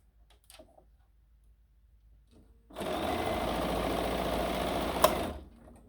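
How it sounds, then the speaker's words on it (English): A sewing machine stitching a quilt block starts up after a quiet pause and runs steadily for a few seconds, with one sharp metallic tick as the needle strikes a pin, then stops. "Oh, see, I didn't take the pin out. And you heard that. The needle hit it."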